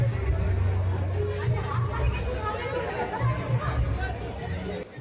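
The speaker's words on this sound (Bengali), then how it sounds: "আজকে ভিড় যেন দেখো উপড়ে পড়েছে" Dense crowd chatter fills a Durga Puja pandal on Navami, a close, continuous babble of many voices with individual people talking near the listener.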